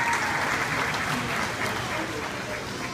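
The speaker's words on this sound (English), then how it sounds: "let's give them a round of applause" A crowd at a California sea lion show in a marine theater claps together, a steady broad wash of applause with some voices mixed in underneath, holding at an even level throughout.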